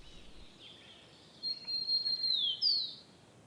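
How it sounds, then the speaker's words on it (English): A common kingfisher in Yala National Park, Sri Lanka gives high, thin piping calls: a few sharp whistled notes in the middle of the clip over a quiet forest background, fairly faint and with no voices. "A common kingfisher."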